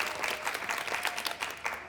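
An audience on the MasterChef Australia set applauds for a contestant named Saxon, a dense, steady patter of many hands clapping close by for the full two seconds with no talk over it.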